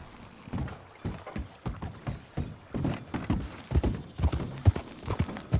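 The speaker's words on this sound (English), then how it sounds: "Man, the horses in this game, I used to love them." Horse hooves clip-clop in a quick, steady rhythm through Red Dead Redemption 2, close and clear, with a few faint creaks and thuds underneath and no talk.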